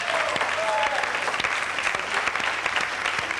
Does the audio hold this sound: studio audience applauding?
yes